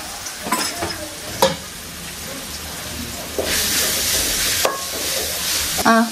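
Food fries in a pan with a steady, hissing sizzle, broken by several sharp scraping stirs of a utensil and a louder burst of spitting toward the end.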